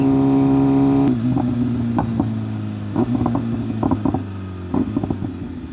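BMW M1000RR superbike fitted with a loud aftermarket exhaust, idling with a steady droning hum before revving in a series of sharp bursts and crackles, close and loud.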